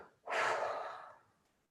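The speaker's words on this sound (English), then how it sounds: "Nice deep breath in" A single deep breath out, a soft airy exhale that swells quickly and then fades gradually, heard close and quiet against near silence.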